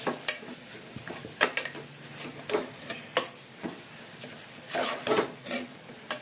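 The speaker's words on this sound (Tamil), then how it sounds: "சேர்த்துட்டு நல்லா மிக்ஸ் பண்ணி விட்டுருங்க" A spoon stirs spinach with soaked rice and dal in a pan for spinach rice, making irregular scraping clicks and soft knocks against the metal with a faint background sizzle and no talk.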